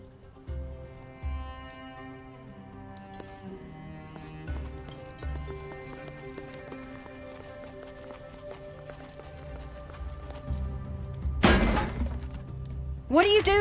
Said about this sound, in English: You can't go around smashing things.